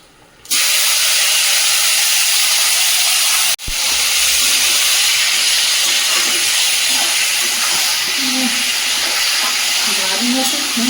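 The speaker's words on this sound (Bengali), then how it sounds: "এই যে চিকেনটা ম্যারিনেট করে রেখেছিলাম দিয়ে দেবো।" Marinated chicken drops into a hot pan of oil with whole garam masala, cinnamon, cardamom, cloves and cumin, bursting into loud, steady sizzling that briefly dips and continues as the meat is stirred.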